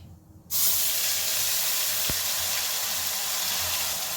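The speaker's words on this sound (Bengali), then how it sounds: "এবারে যে মশলাটা আমি তৈরি করে রেখেছিলাম, সেই মশলাটা এর মধ্যে ঢেলে দিচ্ছি" Spice paste poured into a hot pan while cooking an egg and potato ghanti, giving a steady close hiss and spray of sizzling liquid that starts abruptly and holds evenly throughout.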